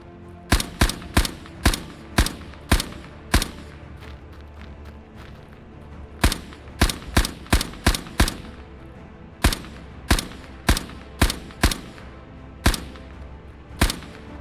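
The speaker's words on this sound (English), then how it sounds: "One of the first, and certainly Britain's first, self-loading rifle, or semi-automatic rifle, developed before World War I, seeing little action." A British Farquhar-Hill semi-automatic rifle from before World War I fires in a video game: about two dozen sharp, loud single shots in quick irregular runs, separated by short pauses, with no talking.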